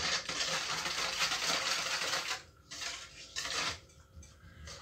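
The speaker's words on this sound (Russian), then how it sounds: "Далее сюда же мы вливаем 500 грамм теплой водички. И все будем сейчас перемешивать." A spoon stirs flour, yeast and warm water in a bowl, scraping and clinking steadily against the sides up close for a few seconds before slowing into softer, intermittent strokes, with no talking.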